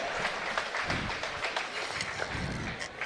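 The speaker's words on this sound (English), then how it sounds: "Give them a round of applause for them as well" A crowd at a Muay Thai combat sports event applauds with dense, continuous clapping that fills the whole stretch at a moderate level, with no speech over it.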